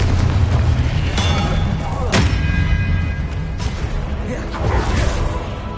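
Repeated Confringo spell blasts in Hogwarts Legacy, several booming bursts with whooshing tails over continuous game music and effects, while a voice shouts spell names.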